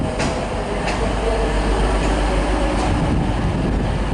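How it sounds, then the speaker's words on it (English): A TransPennine Express Class 185 diesel Desiro train arrives at Newcastle station on the East Coast Main Line, with a loud, steady rumble and low diesel drone close by, plus faint clicks from the rails, and no talk over it. "That's a Transpennine Express Desiro, diesel Desiro if you like."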